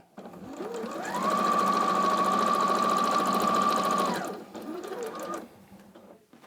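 Sewing machine stitching fabric, a loud steady mechanical whir that ramps up, runs evenly for several seconds, drops off, then resumes briefly in a shorter burst, close by.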